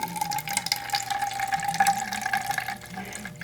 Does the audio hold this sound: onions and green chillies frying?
no